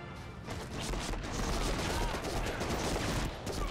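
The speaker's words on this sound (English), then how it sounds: "why are you shooting the roof?" Sustained rapid gunfire in the PS2 video game Medal of Honor: Rising Sun, a steady, fairly quiet wash of bursting shots that continues throughout without pause.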